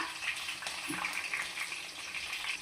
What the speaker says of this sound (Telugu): కొద్దిగా కరివేపాకు, ఇవన్నీ వేసుకొని కొంచెం ఇలా వేయించుకుందాం